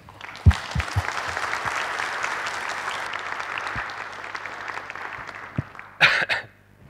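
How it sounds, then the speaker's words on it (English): An audience applauds after a keynote lecture, a sustained roomful of clapping with a few sharp near claps at the start, fading out before a brief cough or throat clearing near the end. "I hope you'll join me in giving him a round of applause"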